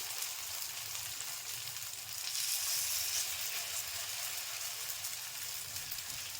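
Adai batter poured in small rounds sizzles on a hot pan, a steady close frying hiss that swells briefly midway, with no voices.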